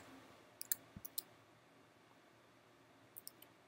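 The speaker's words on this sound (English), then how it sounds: "You can click on connect." Mouse clicks on a Mac while using CyberDuck FTP: a few faint, sharp clicks in quick succession early on, then a short cluster near the end in a quiet room.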